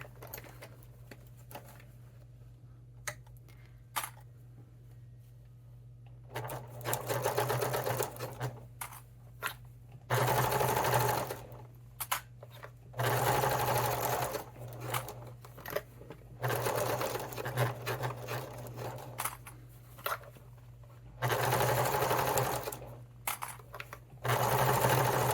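A sewing machine stitches a Yuletide stocking in several loud bursts of rapid whirring, separated by brief pauses, with a steady motor hum underneath.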